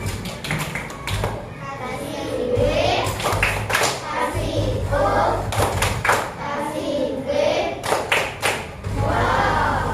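Schoolchildren in a classroom clap in unison for a group, in a rhythmic patterned cheer with taps and thuds, and voices chant along over it.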